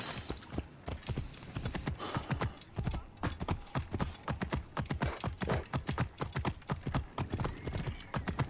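Horse hooves clip-clop at a steady walking rhythm in Assassin's Creed Origins, a continuous stream of close, crisp hoofbeats across the whole stretch, with faint background game ambience.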